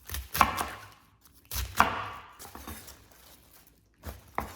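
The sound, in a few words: knife chopping napa cabbage into bite-sized pieces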